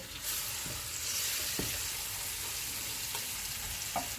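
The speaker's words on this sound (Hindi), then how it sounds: "इसमें अदरक और लहसुन का पेस्ट डालेंगे। इसको 1 मिनट तक फ्राई करेंगे।" Ginger garlic paste sizzles and crackles steadily in a hot pan, with occasional soft scraping taps from stirring; no talking.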